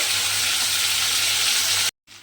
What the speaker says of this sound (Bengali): মাছের তেলটা খুব ভালোভাবে একটু ভেজে নিতে হবে